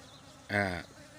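A single bee from a small swarm gathered at a lure box buzzes past close by, a short loud drone lasting about a third of a second over faint background.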